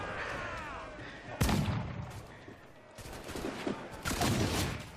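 Swivel cannons firing during a ship battle in Assassin's Creed IV: Black Flag, several sharp booming blasts among rumbling combat noise, with a voice talking over the action.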